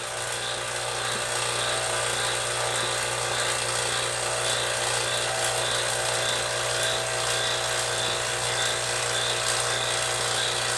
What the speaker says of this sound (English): go ahead and we'll shut the vacuum pump off.